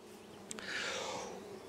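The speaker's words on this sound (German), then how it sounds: "Und dann können wir einfach hier die Bienen so ganz entspannt abkehren." Honey bees buzz in a steady, faint swarm as they are gently swept off a hive frame, with a soft brushing swish partway through.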